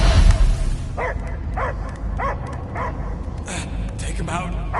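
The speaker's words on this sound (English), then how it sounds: "I hear only barking." A dog barks repeatedly in a Guardians of the Galaxy video game scene, a series of rhythmic mid-distance barks over a rumbling background bed while characters talk.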